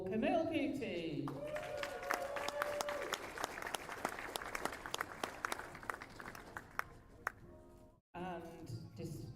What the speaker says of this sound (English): huge round of applause for Camille Cootie